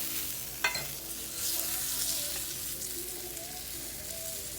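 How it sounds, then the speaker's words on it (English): A txuleta steak bone set back onto the grill sizzles in a steady, close crackling hiss, with one sharp knock near the start and no talking. "We're going to put the bone back onto the grill"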